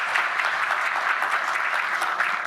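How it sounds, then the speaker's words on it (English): A seated investor-day audience gives a round of applause for the JLR team, a dense, even wash of many hands clapping at steady loudness throughout. "How about a round of applause for the JLR folks?"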